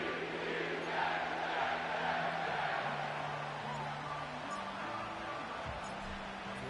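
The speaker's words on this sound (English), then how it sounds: "you can already hear this home crowd" A home-stadium crowd roars and cheers in the Madden 25 football video game, a broad sustained rumble with some tonal game sounds mixed in, heard under players talking.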